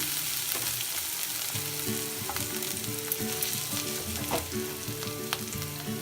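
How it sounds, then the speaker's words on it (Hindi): A garlic and onion paste with turmeric fries in a pan, a close steady sizzle and crackle broken by repeated spatula scrapes and taps, with no talking. "लहसुन प्याज का पेस्ट भून के तैयार हो गया है इस तरह से। ये अब इसमें मैं ये देखिएगा हल्दी डालूंगी"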